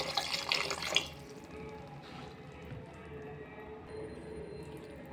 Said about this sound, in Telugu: నెక్స్ట్ ఒక గ్లాస్ వాటర్ వేసుకోండి